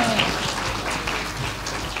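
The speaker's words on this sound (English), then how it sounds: "And a round of applause!" An audience at a live podcast taping breaks into applause, a dense, steady wash of many hands clapping that sounds close and full, with voices mixed in.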